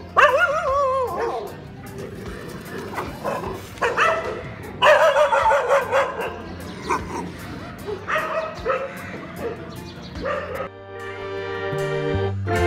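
Dogs bark and yip loudly and close by on an empty Goa beach in the morning, repeated bursts with whimpering between them.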